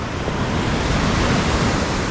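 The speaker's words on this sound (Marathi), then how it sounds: "इकडे ॲक्च्युली पाण्याचा आवाज एकदम वेगळा येतो" Heavy, continuous roar of ocean waves on a Konkan beach, loud and broad like crashing surf, with a windy rush and no voices.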